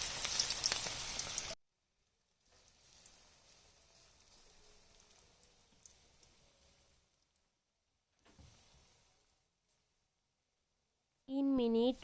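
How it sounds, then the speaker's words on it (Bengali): Cabbage pakoras frying in hot soybean oil give a steady, close crackling sizzle in two stretches separated by near silence, with a louder burst of noise at the start and a brief tonal sound at the end. "তেল খুব ভালোভাবে গরম হওয়ার সাথে সাথে এখন আমি চামচের সাহায্যে পাকোড়া তৈরি করার জন্য মিশ্রণগুলো দিচ্ছি ছোট ছোট করে"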